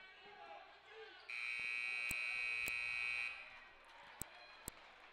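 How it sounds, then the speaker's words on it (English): At a varsity high school basketball game in a gym, a loud electronic buzzer sounds for about two seconds to end the third quarter, followed by a couple of sharp shoe squeaks or thuds. "That buzzer, that's the end of the third quarter."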